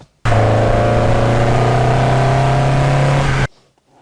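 An Opel Manta A engine hums steadily at a constant pitch on a twisty local road, loud and close, then cuts off abruptly after about three seconds.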